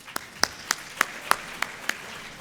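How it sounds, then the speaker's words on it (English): Audience applause at a presidential candidate forum, heard as a sparse run of separate claps, roughly eight evenly spaced sharp hits over faint room background. "So please give me a round of applause."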